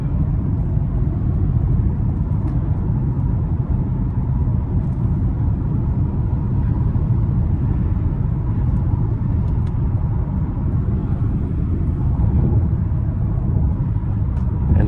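A twin-turbo 2020 Cadillac CT5 cruises on a highway at night, giving a steady, loud low rumble of engine, tire and road noise throughout without letup, with no talking.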